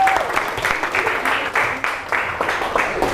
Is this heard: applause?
yes